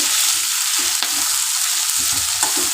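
Garlic frying in a pan, a steady close hiss and sizzle with a few soft stirring scrapes, no voices.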